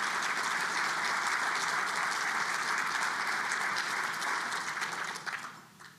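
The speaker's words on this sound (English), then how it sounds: "Please give them a round of applause." An audience at a community forum applauds steadily and loudly for several seconds before the clapping thins and fades out at the end.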